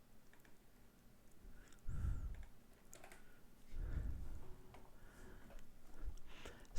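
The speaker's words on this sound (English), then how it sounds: "I could type in a new message to save the typing time" Typing on a computer keyboard while writing a message in Korean, a quiet, close run of light key clicks with two short bursts of heavier thumps in between.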